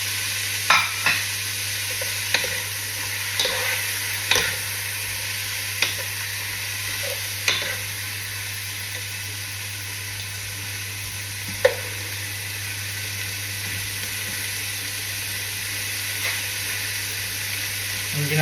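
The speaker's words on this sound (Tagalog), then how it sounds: "Haluin lang natin." Tomatoes frying and sizzling in a pan while being stirred, with a steady hiss and scattered clinks and scrapes from the spoon, close and alone with no talk.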